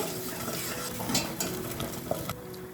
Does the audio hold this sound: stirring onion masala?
yes